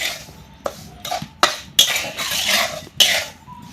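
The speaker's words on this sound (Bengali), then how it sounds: "এই কড়াতে আমি লবণটা ভেজে নিব আর লবণটা কিন্তু একদম হালকা আছে ভেজে নিতে হবে আর অনবরত কিন্তু এইভাবে নাড়াচাড়া করতে হবে" Salt being dry-roasted in a wok is stirred continuously, producing about six close, sharp scraping strokes with brief gritty rustles between them.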